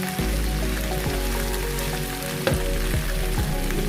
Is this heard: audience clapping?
no